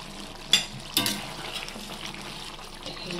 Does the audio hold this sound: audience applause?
no